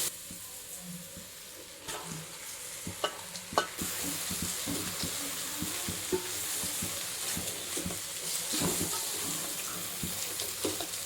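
Capsicum and noodles stir-frying in a pan for Hakka veg noodles, a steady sizzle with repeated scraping and stirring clicks of a utensil against the pan, close and fairly quiet.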